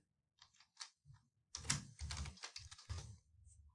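Fingers tap a computer keyboard entering a password, quiet and close, in a short irregular burst of clicks with brief pauses between keystrokes.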